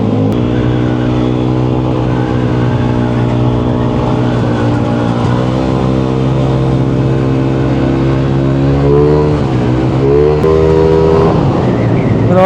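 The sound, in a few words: Yamaha Aerox 183cc scooter engine revving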